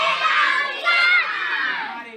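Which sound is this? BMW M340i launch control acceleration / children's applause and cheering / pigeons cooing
children's applause and cheering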